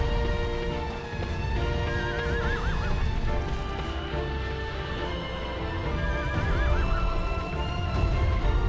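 Horse in the video game Shadow of the Colossus whinnies twice over the steady pounding of galloping hooves, loud and continuous with game music running underneath.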